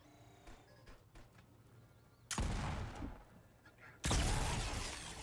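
Weapon fire in Volcanoids: two loud, close blasts a couple of seconds apart, each a sharp crack that trails into a rough, noisy decay, with quieter clicks and faint ambience before them.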